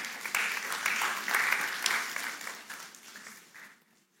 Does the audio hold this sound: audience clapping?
yes